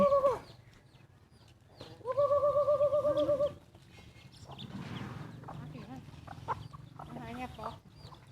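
Chickens cluck and squawk nearby in a few loud bursts, with a rooster-like call early on, mixed with background voices and farmyard clatter.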